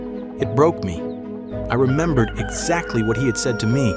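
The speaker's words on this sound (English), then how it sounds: "And the third time, I heard the rooster crow." A rooster crows under a voice as he narrates, the rising and falling call partly masked by his speech and sitting just behind it.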